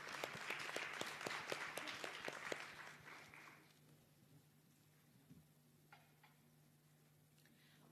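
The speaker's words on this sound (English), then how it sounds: "A huge round of applause." Audience applause for a panelist at a youth tourism summit, a loud burst of clapping over the first three and a half seconds that then cuts off, leaving a quiet room with a low steady hum and a few faint clicks.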